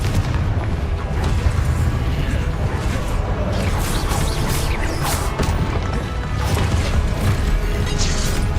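Confringo blast spells cast in the video game Hogwarts Legacy, heard as a dense run of bursts, cracks and impacts over constant loud game noise, with repeated spell casts throughout.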